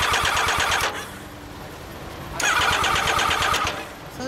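A stock 2016 Yamaha MT-09 Tracer ABS motorcycle's three-cylinder engine cranks and fires, runs with a rapid rhythmic throb, drops off briefly, then catches and runs again close by, with no talking.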